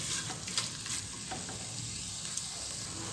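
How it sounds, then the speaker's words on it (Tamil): Coriander and mint leaves sauté with tomato in a hot pan, giving a steady close sizzle with soft scraping stirs and occasional small pops throughout. "மல்லியிலையும் புதினாலையும் சேர்த்து நல்லா வதக்கி கொடுத்துட்டாங்க"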